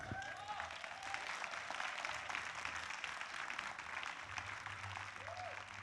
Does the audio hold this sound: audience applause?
yes